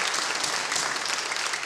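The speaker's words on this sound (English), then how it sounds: "let's give another round of applause for our coaches for their commitment," A school athletic awards audience applauding their coaches, a dense, even wash of many hands clapping at once, steady and fairly loud for the short stretch with no voices standing out.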